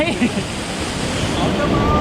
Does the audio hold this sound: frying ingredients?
no